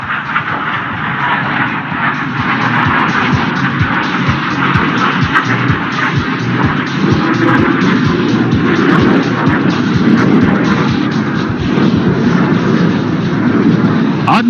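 A Tejas fighter jet flies past inverted at an airshow in Dubai, its engine a loud, sustained roar and rumble that holds steady for the whole stretch, with crowd noise or an announcer faintly underneath.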